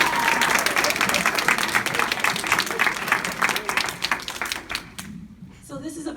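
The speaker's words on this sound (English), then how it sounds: "Can we give her a hand clap for that?" Audience clapping for a performer at a live stage event, a dense, steady round of applause lasting several seconds before thinning out near the end.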